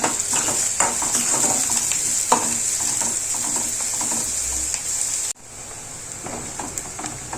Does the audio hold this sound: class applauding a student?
no